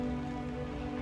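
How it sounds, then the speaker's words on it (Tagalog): Heavy rain pours on the Wa Shan military trail in the Hong Kong mountains, a dense, steady hiss of drops hitting the surface, close and continuous with no voices. "Kasi nga umuulan."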